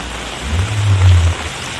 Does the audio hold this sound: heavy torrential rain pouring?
yes